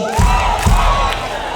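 A loud burst of crowd noise at an outdoor stage concert in Songkhla, Thailand, with shouting and cheering voices, two heavy thumps near the start, fading slightly over a moment and a half.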